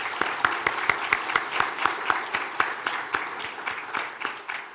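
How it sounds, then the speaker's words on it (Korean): Church congregation applauding at an evangelistic service after a hymn performance, steady crowd clapping with sharp individual claps standing out, fairly close and even throughout, tapering slightly toward the end. "박수 격려 한번 해드리면 좋겠어요."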